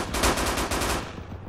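Machine gun fire in the tank game Ace Tanker rattles out as a rapid, loud burst of evenly spaced shots, heard close and alone.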